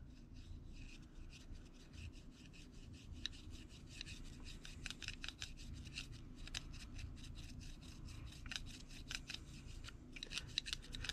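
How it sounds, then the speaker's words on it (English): Paint being rubbed off a Monogram '55 Ford wrecker model truck body: faint, steady, close scratchy scrubbing strokes in quick repeated rhythm, with no talk. "Just keep rubbing. And you're going to start seeing the paint come off here in a second."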